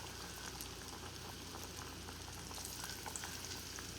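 Zucchini frying in hot oil in a pot, giving a steady, soft bubbling sizzle with scattered small crackles throughout, quiet and unbroken by talk.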